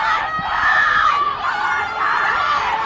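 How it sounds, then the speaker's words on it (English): A crowd yells and cheers for a team at a distance, a continuous wash of shouting voices that rises and dips slightly, steady and moderately loud, with a few children's screams mixed in. "Somebody's yelling for another team right now."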